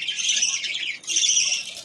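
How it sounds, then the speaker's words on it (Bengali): Baby birds call nearby with loud, continuous, shrill squawking that pauses only briefly midway before resuming. "পাখির বাচ্চা এগুলো"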